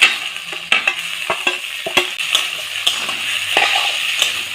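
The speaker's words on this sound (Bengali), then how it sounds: "এখন আমি দিয়ে দিব গ্রেট করা আলু" Grated potato with chopped chillies frying in a pan, a loud close sizzle under repeated scraping strokes and clinks of a spatula as it is stirred, no voices.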